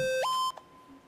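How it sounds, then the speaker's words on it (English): An alarm in the Bigfoot video game sounds as a single loud electronic beep that steps up in pitch and then cuts off, leaving a faint tone and quiet background. "Why am I hearing an alarm?"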